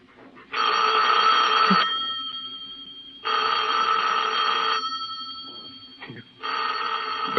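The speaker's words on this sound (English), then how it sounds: "Better answer the phone." An old-fashioned telephone bell ringing in a radio drama, three loud, bright rings of about a second and a half each, separated by silent gaps, with a faint thump between rings.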